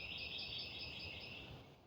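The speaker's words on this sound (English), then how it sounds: "the birds are still singing" Birds sing faintly on a calm, lovely morning outdoors, a thin continuous high chirping and trilling over quiet ambient background, with no talk.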